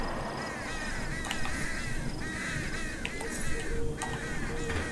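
Crows cawing in the video game Them & Us, several harsh repeated caws over a steady dense ambient background, moderately loud and continuous.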